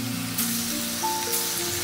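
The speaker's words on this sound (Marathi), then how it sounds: "आपलं तेल छान गरम झालेलं आहे। असे अगदी एवढे छोटे छोटेसेच वडे तळायचे आहेत" Small chana dal vadas frying in hot oil, a steady close sizzle and crackle with faint background tones.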